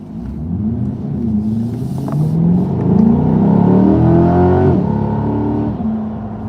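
A 2025 Chevy C8 Corvette engine revs up from inside the cabin, its rumbling pitch climbing through the gears to a loud peak, then settling back.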